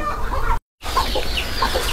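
Hens clucking on a poultry farm, close and continuous in soft repeated calls against busy farm background noise, with a brief dropout to silence.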